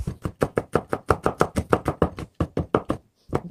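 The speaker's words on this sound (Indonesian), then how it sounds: "Kita geprek ya bawang putihnya" Garlic cloves being crushed and chopped on a board near a wok, a fast run of sharp, close knocks in a steady rhythm with a brief pause before a final pair of hits.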